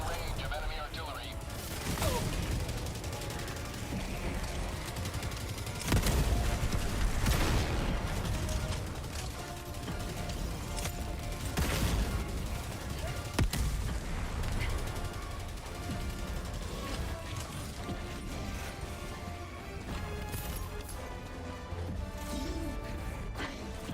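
Dense video game battle soundscape of enemy artillery fire, with repeated heavy booms and crashing impacts over a constant rumbling mechanical din, loud and continuous throughout.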